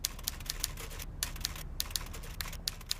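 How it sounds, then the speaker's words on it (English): A typewriter clatters in a neighbouring room, rapid uneven key strikes with brief pauses, faint and somewhat muffled, with no talk. "About now, we heard a typewriter being used in a neighbouring room."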